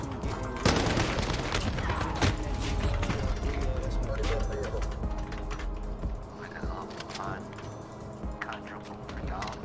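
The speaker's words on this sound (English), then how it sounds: "the AK with stopping power can one-tap people to the chest" AK rifle fire in an online shooter game, dense bursts of sharp shots and clattering effects over a busy game mix, with a player talking throughout.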